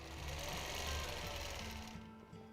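A sewing machine stitching free motion quilting hums in a steady, fast mechanical rattle, close and continuous, then eases off near the end.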